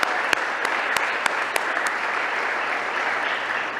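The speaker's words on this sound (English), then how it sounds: "please give her a round of applause" An audience at a military and career signing day claps steadily, dense, even applause heard close and alone, with a few sharper individual claps standing out.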